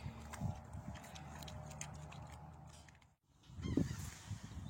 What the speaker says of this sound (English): Those are snow geese.